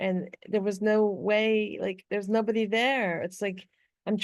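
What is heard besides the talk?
No distinct noise like a dog, phone or traffic.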